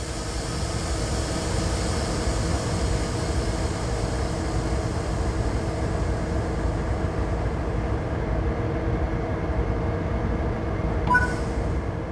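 A diesel-electric locomotive in Train Sim World 3 pulls away from a stop, giving a steady engine drone with tonal hums, plus a faint brief chime near the end.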